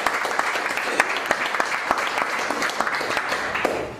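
A studio audience gives a round of applause for a retiring national team captain: a dense, even patter of many hands at moderate distance, running continuously.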